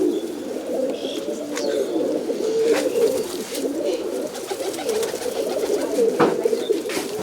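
A loft of top-quality racing pigeons coos steadily, low rolling calls overlapping throughout at moderate loudness, with occasional sharp clicks and flutters close by.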